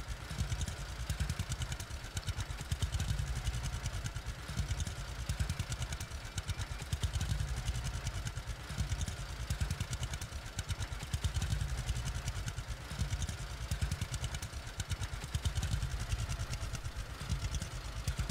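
A farm tractor engine in the video game Farmers Dynasty runs steadily throughout, a continuous rough mid-pitched drone with a rattling idle texture and no pauses.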